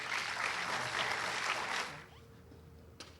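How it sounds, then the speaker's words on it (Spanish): Applause from an auditorium audience welcoming engineer Juan Saavedra at a talk on materials characterization, soft and somewhat distant, carrying for about two seconds before it dies away into quiet room tone. "Recibimos con un fuerte aplauso al ingeniero Juan Saavedra."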